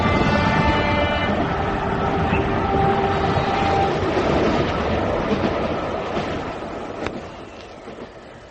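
A train rolls along the rails as a sound effect in a radio drama, a steady rumbling roar with tonal squeals that fades toward the end.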